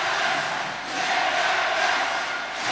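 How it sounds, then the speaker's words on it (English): A basketball arena crowd roars after an alley-oop play, a dense, sustained wash of cheering that swells and dips slightly, with no clear voices standing out. "that gets this crowd all pumped up"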